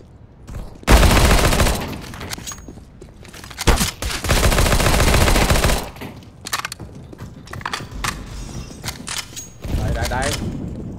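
Gunfire from the video game Counter-Strike on the Office map, with loud bursts of automatic fire in two long volleys plus scattered single shots and mechanical clicks, close and harsh, no speech.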